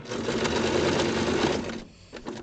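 A sewing machine backstitches in place to close a lining seam, a dense steady mechanical whir running for nearly two seconds before cutting off, followed by faint handling sounds and a brief soft stitch burst.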